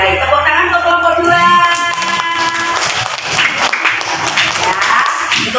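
A classroom of children claps for group 2, a loud close burst of applause with a few shouts and whoops mixed in, a voice speaking over the opening moments.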